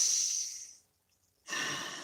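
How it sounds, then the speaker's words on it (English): Two slow, deep breaths, a long airy exhale fading into silence, then a fresh breath starting, close and quiet with no speech. "Please take a nice deep breath."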